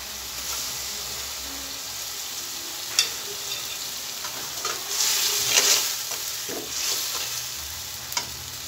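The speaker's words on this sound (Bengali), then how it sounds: "মশলাগুলো ভালো মতো নেড়ে চেড়ে নিলাম।" Spice pastes of onion, garlic, ginger and cumin with salt are stirred and fried in a pan for a broiler chicken curry, giving a steady close sizzle with scraping spoon strokes and a few sharper clinks, no talking.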